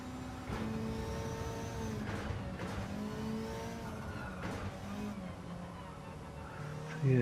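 Race cars in Gran Turismo 7 drone and rev through a Manufacturer Cup race, engines rising and falling through gear changes, with a louder close engine roar flaring at the end and no speech.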